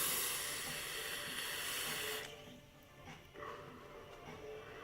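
Vapor exhaled from a hit on a Goon 528 Customs RDA: a steady breathy hiss for about two seconds that then drops away into quieter hissy room tone.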